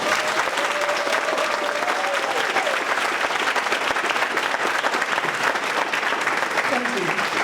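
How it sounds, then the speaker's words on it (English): Vigorous audience applause at a TAPP completion celebration ceremony, continuous and fairly loud throughout, with a few cheers and raised voices rising through the clapping. "That alone deserves all the applause at this moment"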